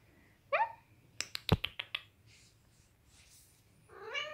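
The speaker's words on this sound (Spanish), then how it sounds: "Es el gatito del vecino." A small kitten lets out a couple of thin, high meows, separated by a short series of sharp clicks and taps, close and fairly quiet.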